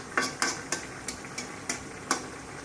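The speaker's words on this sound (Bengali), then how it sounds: "এইভাবে ঢাকনার মাঝে ঢাকনা উঠিয়ে এইভাবে নেড়ে দিবেন" A utensil scrapes and knocks around a pot of chepa shutki curry, about eight short, evenly spaced strokes, close and fairly quiet over a faint background hiss.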